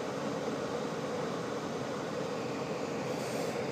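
Tesla Model S air conditioning fan and compressor running as a faint, steady broadband whoosh with no distinct changes throughout.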